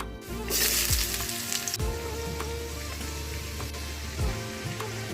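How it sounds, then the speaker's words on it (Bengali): Vegetables for fried rice fry in a hot pan with a steady, close sizzle, a brief louder hiss near the start and faint clinks of the utensil against the pan. "বেজিস ভাজতেছে"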